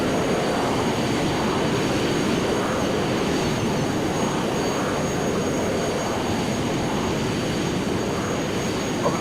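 Jet airliner engines roaring during the takeoff roll from Edinburgh, a loud, constant broadband rush with no pauses, heard close and alone throughout.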